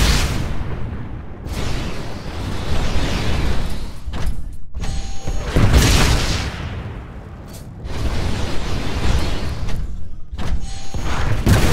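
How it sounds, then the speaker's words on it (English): Rocket explosions from the video game Titanfall, a series of loud, dense booms and rumbling blasts in several bursts, each swelling and fading with brief gaps between them and no voices. "Move down the hallway while avoiding the rockets."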